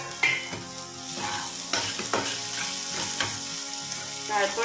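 Chopped onion, tomato, chili and garlic frying in a pan for banana-flower croquettes, with a steady close sizzle broken by repeated stirring scrapes and clinks, and no talk.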